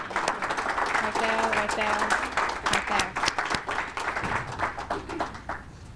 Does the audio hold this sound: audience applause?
yes